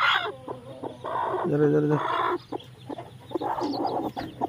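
Country chickens on a small farm, hens clucking in short repeated bursts close by, with a brief spoken word in the mix.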